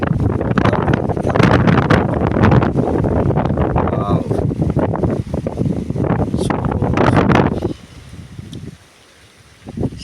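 Wind rushes and buffets loudly through a tree in a village for most of the stretch, with roaring gusts hitting close by, then dropping off sharply to a quieter lull near the end.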